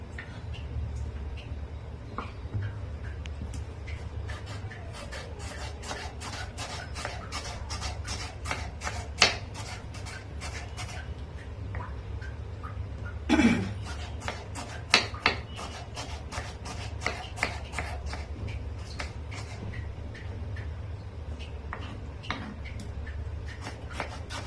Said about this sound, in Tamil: தக்காளி கட் பண்ணாச்சு.